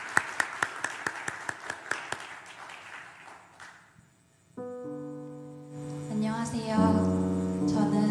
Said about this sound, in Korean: 우리 박수로 축복해 주시면 감사하겠습니다.